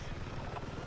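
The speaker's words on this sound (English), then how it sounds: "This chopper should be able to help break things up a bit more." Helicopter in the video game Battlefield 6, a loud continuous rotor thrum with a dense low-pitched chop that fills the whole moment.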